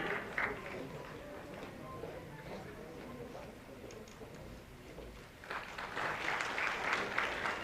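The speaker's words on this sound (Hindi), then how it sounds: "तालियां जोरदार हो" Audience applause at a government tablet distribution event for primary schools, a fainter patter of clapping that swells louder in the last seconds, with voices mixed in.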